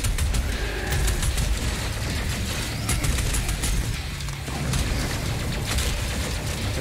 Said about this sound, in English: That's exactly what a heavy cannon should sound like.